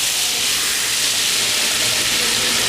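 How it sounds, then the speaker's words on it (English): Water hits hot brown butter in a pan, throwing off a loud, steady hissing sizzle of steam that holds strong and unbroken throughout. "I'm going to stop the cooking process by adding a little bit of water to that."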